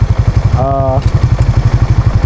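Rusi Raider FI manual motorcycle running as it shifts into second gear: a close, loud, rhythmic single-cylinder putter with a brief tonal whine midway, while someone talks.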